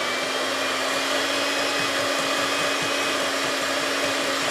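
An electric mixer beats sugar and eggs for a sponge cake in a home kitchen, giving a steady, loud, continuous motor whine that holds unchanged for the whole stretch with no talking.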